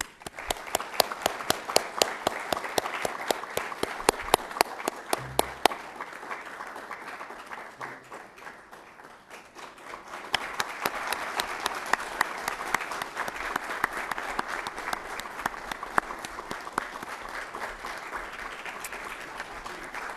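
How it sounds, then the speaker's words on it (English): Sustained applause from a large audience, dense and steady, dipping briefly before swelling again for about twenty seconds. "let's give them a round of applause."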